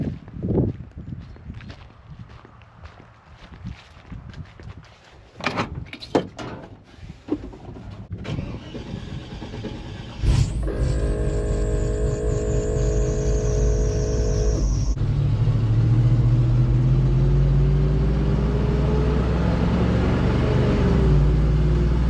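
A truck on a farm with dead grass drives in and pulls up, its engine rising from about ten seconds into a steady, close rumble with a higher whine on top, after footsteps and handling noises.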